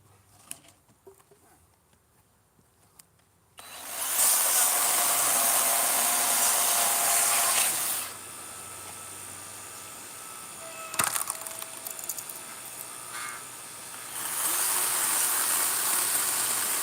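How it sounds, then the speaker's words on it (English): A cordless saw cuts through firewood from a pile, loud steady whining bursts from about 3.5 to 8 seconds and again near the end, with a short sharp crack between them and quiet outdoor ambience before the first cut. "It's strong too for cordless saw."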